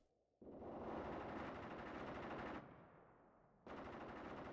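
Sustained bursts of machine gun fire in the WW2 video game Mius Front, a dense rattling roar that runs for seconds, dips briefly, then surges back in loud and close.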